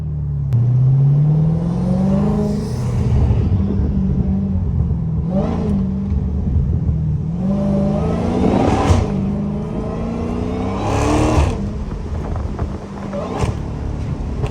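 A Dodge Hellcat's engine roars through repeated revs and downshifts, pitch climbing and dropping in sweeping waves with sharp blips, loud and close throughout.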